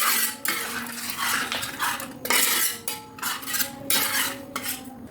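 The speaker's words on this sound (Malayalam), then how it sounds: "ചേർത്ത് മിക്സ് ചെയ്ത് യോജിപ്പിച്ചെടുക്കാം" A metal spoon scrapes and clinks against a pot while fresh Amul cream is stirred into chicken curry, in repeated bursts of stirring with short pauses, close and fairly loud, with no talking.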